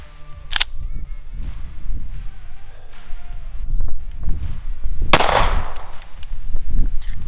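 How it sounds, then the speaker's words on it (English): Gunshots are fired at about ten feet into a clear ballistics gel block: two sharp, loud cracks, the second followed by a brief noisy tail, set among low rumbling handling sounds. "shoot it into that at around about 10 feet and see how it performs"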